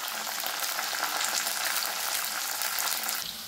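Curry leaves fry in hot oil in a pan, a loud, dense, steady sizzle close by that holds evenly for a few seconds before easing slightly at the end.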